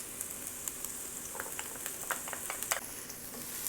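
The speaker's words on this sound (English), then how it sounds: "Saute it for just a couple of seconds" Onion and garlic sauté in hot oil for a stuffed squid filling, giving a soft, steady crackling sizzle with scattered pops and light stirring clicks, fairly quiet and close.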